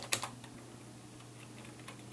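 Rapid keystrokes on a computer keyboard while entering account details for a website, a short burst of clicks at the start and another at the end, with quieter tapping between.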